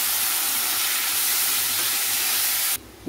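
Cumin seeds fry in hot oil for a carrot curry, giving a loud, continuous close-up sizzle and hiss that cuts off abruptly just before the end.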